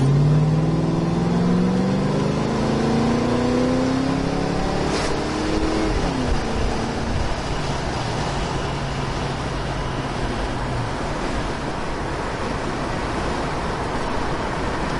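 A 1993 Ford Mustang's engine drones steadily, rising in pitch as it accelerates and then settling into a constant cruising hum with road noise, no voices.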